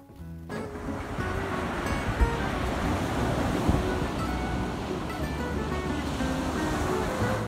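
Ocean surf rolls in a continuous, steady roar, with wind rushing across the microphone and no breaks in the wash of waves.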